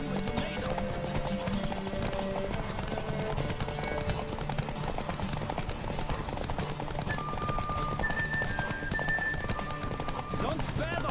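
Hoofbeats of a galloping horse in The Witcher 3 clatter steadily throughout, with an occasional whinny, set against a constant bed of music and game ambience while a voice speaks over it.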